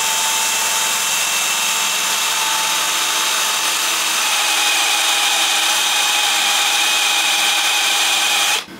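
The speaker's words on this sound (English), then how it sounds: "I'm going to drill it and try and put some self-tapping screws in there." A power drill whines continuously at high speed for several seconds, driving self-tapping screws into a cottage chimney, close and loud, then cuts off abruptly.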